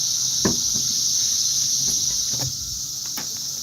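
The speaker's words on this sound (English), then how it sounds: "the noise from the cicadas actually might have plagued Pharaoh's kingdom a little bit too hard." Loud, steady insect buzzing, likely cicadas, fills a summer outdoor scene without a break. A few faint clicks and thumps sit underneath, and no one speaks.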